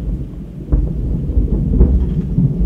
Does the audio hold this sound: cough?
no